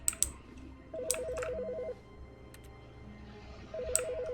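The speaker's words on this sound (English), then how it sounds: "Is that phone ring new?" A phone rings in The Stanley Parable video game: two short bursts of trilling electronic ringing separated by a pause, quiet and clear against faint background noise.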